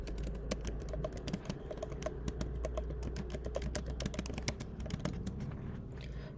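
Steady, rapid clicking of keys on a computer keyboard, a continuous stream of close, crisp taps over a low background hum, with no voices.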